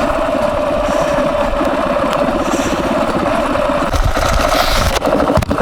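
A motorcycle engine runs steadily while riding the Trans Euro Trail in Montenegro, a loud, close, continuous mid-pitched drone with some wind rumble.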